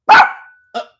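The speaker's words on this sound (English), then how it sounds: "you can't be barking in the live, buddy" A dog barks twice close by, one loud sustained bark followed after a short pause by a shorter, softer one, during a live music stream with no talk over it.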